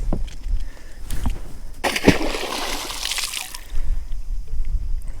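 A 25-inch tagged redfish is tossed back into deep water from a boat, making one short splash amid a steady sloshing and dribbling water background.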